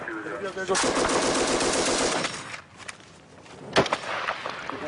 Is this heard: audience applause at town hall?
no